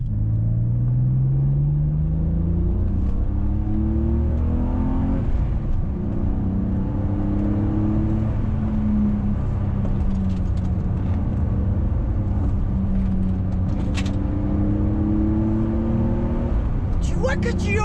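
A BMW M635CSi's engine rumbles and climbs through repeated rising revs under acceleration on the road, with people talking over it inside the car.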